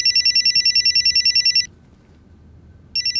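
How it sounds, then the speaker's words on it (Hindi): A telephone bell rings loud and close in a steady trilling burst, stops for over a second, then starts ringing again. "गुरु का फोन।"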